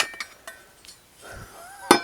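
A metal gauge cluster plate on a Nissan 350Z lifts free after its four screws come out, giving a few light clinks and taps followed by one sharper metallic clatter near the end, close up with no talking.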